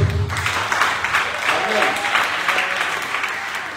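Church congregation applauding together, a steady dense wash of clapping filling the whole span at moderate loudness with a few voices mixed in.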